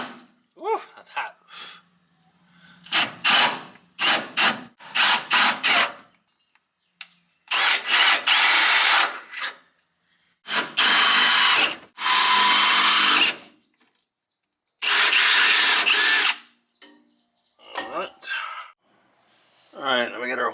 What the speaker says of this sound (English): let's go ahead and get this drilled out and put it in